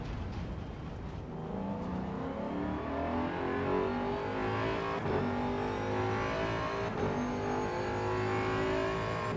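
Ford Mustang race car in the AC EVO racing game, its engine revving up and down through gear changes with repeated rising pitch sweeps, a loud, continuous growl.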